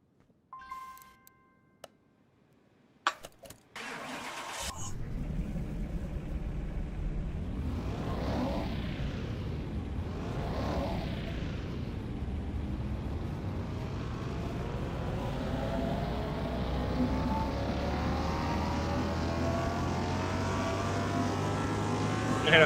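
In the video game Car Mechanic Simulator 2021, a few clicks, then a small-displacement V12 engine in a Jaguar fires up and runs with a buzzy, raspy drone that rises steadily in pitch as it revs.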